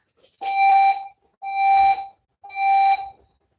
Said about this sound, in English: Oh, now the alarm stopped? Well, it's back on again.